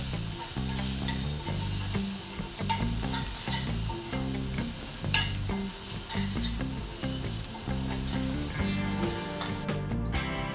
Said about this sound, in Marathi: एक चमचा धण्याची पावडर घालू पुन्हा चांगलं परतवून घेऊ